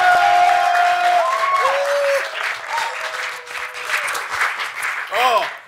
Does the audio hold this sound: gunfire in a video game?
no